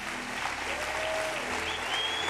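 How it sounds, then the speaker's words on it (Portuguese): A church congregation applauding, continuous dense clapping from a large crowd heard at a moderate distance, steady for a couple of seconds with faint tones underneath. "Eu queria que você aplaudisse o Senhor Jesus pela vida do Davi."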